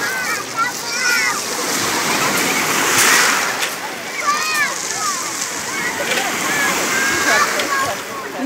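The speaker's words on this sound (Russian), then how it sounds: "Небольшие волны, небольшие." Small sea waves splash and slosh at a Black Sea beach in Lazarevskoye in summer, close and continuous, with children's voices and people talking over the surf as bathers play in the water.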